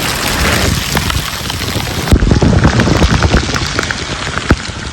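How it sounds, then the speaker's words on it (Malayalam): Heavy monsoon rain pours down during a ride on an Ola S1 Pro Gen 2 electric scooter along ghat roads, a loud, dense, steady roar of drops close to the microphone with no talking. "മാറ്റമൊന്നുമില്ല, നല്ല പെരും മഴ."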